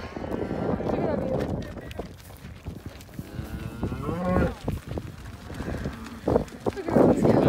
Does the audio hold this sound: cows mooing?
yes